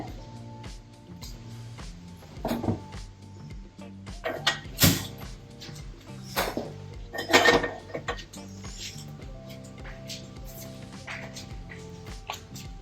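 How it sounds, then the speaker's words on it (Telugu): A metal tempering ladle set down on a lit kitchen stove while making a buttermilk tempering, giving a few sharp metallic clanks and clatters against a quiet kitchen background. "దీని మీద పోపు గరిటె పెట్టా"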